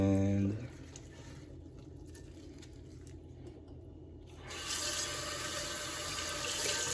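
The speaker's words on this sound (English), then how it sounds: "just give them a good rinse" Kitchen tap running as vegetables for guacamole are rinsed, a brief louder clatter at the start, then a steady close wash of water that swells louder near the end.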